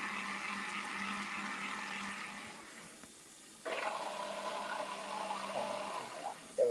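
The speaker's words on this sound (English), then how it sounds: "Some kind of cool washing action now." Tap water runs steadily during washing, a broad rushing hiss that dips briefly midway then resumes louder, with a low steady hum beneath.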